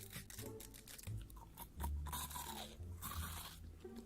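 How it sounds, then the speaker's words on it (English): Someone eating food in a mukbang makes quiet crunching and chewing sounds, a run of brittle, irregular bites and scrapes close to the microphone. "you hear that crunch though?"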